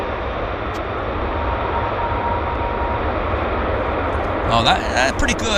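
A Boeing 777 airliner on landing rollout at Vancouver airport gives a loud, steady, broad roar that holds throughout, while a nearby voice speaks briefly toward the end.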